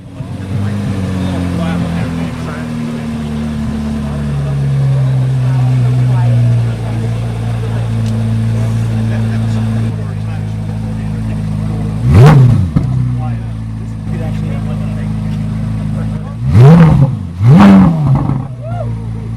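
A Chevrolet Corvette C8 Z06 idles with a steady, deep, close rumble at a dealership, then gives a few short, sharp revs near the end.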